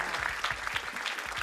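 An audience claps during a Muay Thai demonstration session, a short burst of dense, even applause with rhythmic individual claps standing out, nearby and fairly loud, without talking.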